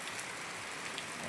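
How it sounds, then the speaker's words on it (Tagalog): Steady rain falls outdoors near a small shop shelter, a dense even hiss of drops on surfaces with no talking. "inabot na ako ng ulan"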